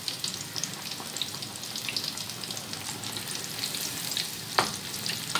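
Fish fingers frying in a pan of hot oil, a steady dense sizzle that holds close and continuous, with one sharper pop or clink near the end and no voices.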